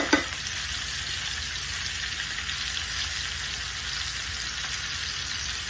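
Pork chops fry in a hot pan, giving a steady, close, even sizzle with a brief sharper crackle at the start and no voices over it.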